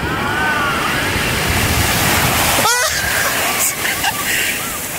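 Sea waves wash ashore on an Odisha beach in a loud, continuous rush of surf and wind noise, with a brief voice cutting through near the middle.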